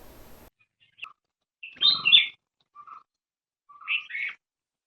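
Birds at a small water pond beside a house in Konkan during hot summer give short, bright chirps in separate bursts, with a fuller double call midway and another near the end, against otherwise quiet surroundings.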